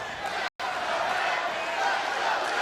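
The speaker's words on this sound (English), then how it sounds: "Listen to this crowd in the impact zone." A wrestling arena crowd in the Impact Zone roars continuously during a no-disqualification match, a dense, sustained wash of cheering with a brief dropout near the start.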